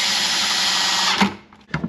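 A power drill drives a screw into a 5-gallon bucket mouse trap: a loud, close, steady whir for over a second, then it stops with a short burst at the end.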